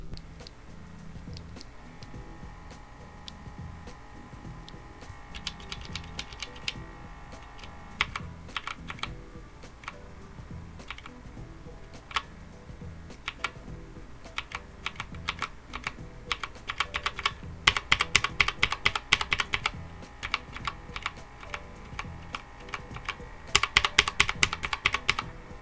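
Outemu mechanical keyboard switches typed on, alone with no voices: steady close clicking keystrokes that grow into denser, louder bursts of rapid typing toward the middle and end.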